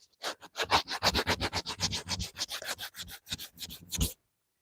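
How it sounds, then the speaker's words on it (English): An 80-grit sanding block is rubbed by hand to chamfer wooden edges: a rapid, close series of rough scratchy strokes in an even rhythm that stops abruptly near the end. "We're going to chamfer these edges with the 80 grit on the block."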